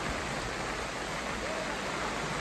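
A swollen, muddy village river, overflowing in the monsoon, rushes past in a loud, unbroken wash of noise with no pauses and no voices.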